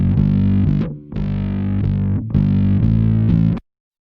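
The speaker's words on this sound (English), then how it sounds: "the distortion on this bass doesn't change" A bass line run through a distortion effect on a send, gritty and saturated with a thick buzzing tone, played in three sustained phrases with brief gaps, then cutting off to silence.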